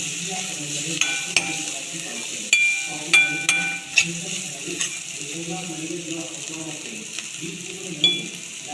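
Onions sauté in a pan for aloo paratha filling, a soft continuous sizzle broken by sharp clicks and scrapes as a spoon stirs against the metal.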